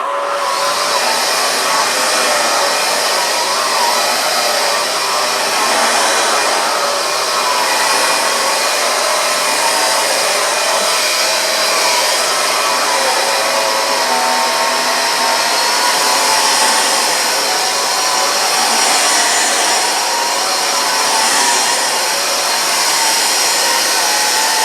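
A Vax Air cordless upright vacuum cleaner runs continuously, a loud steady high-pitched motor whir with airy hiss and no pauses across the whole stretch.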